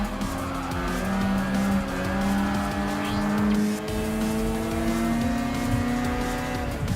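A Mazda RX500 retro rotary supercar in a custom race in Gran Turismo Sport howls steadily at high revs, with tires squealing through a corner and other cars' engines droning close by.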